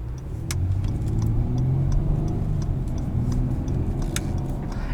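A 2018 Acura TLX A-Spec with its 3.5-litre V6 runs in a steady, close low rumble, a constant mid-level engine drone with faint clicks above and no talking.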